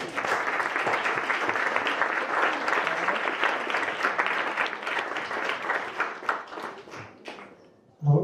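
A festival audience applauds in a dense, steady wash of clapping that holds for several seconds, then thins and fades near the end before a brief louder sound cuts in.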